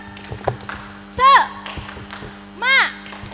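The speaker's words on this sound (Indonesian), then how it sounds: "Tepuk semangat." Children at a Sunday school service do a rhythmic spirit clap, a quick pattern of light, close claps and taps broken by two loud, drawn-out group shouts.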